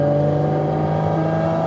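A Porsche 718 Cayman GT4 RS flat-six with PDK gearbox holds a loud, steady, close-up mechanical drone, rising only slightly in pitch over a brief moment.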